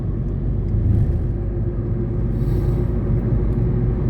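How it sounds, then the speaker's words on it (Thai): Heavy road vehicle rumble, likely a logging truck hauling timber along a roadside cleared of trees in Finland, a steady loud low drone throughout with no break. "นี่นี่เห็นว่ารถตัดไม้ขนไม้จ้านี่"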